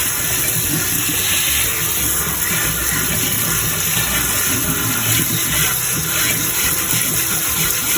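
Prickly pears, also called tunas or cactus pears, are rinsed under a continuous stream of running water for eight seconds, a steady close splashing rush with no talking.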